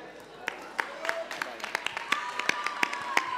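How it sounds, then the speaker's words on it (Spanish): Scattered audience applause for the third semifinalist at a national urban music contest: sparse, sharp individual claps from a small crowd, fairly distant and unsteady in rhythm. "Fuerte el aplauso para el tercer semifinalista"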